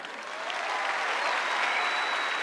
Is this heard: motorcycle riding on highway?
no